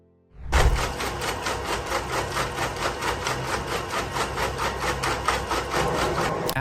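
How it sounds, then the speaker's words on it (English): Industrial shredder chopping electrical wires for recycling starts abruptly and runs loud and close, a dense grinding roar with a steady rapid chopping pulse throughout. "These machines work like giant blenders, chopping the wires into tiny pieces."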